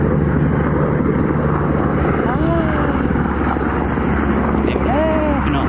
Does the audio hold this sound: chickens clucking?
no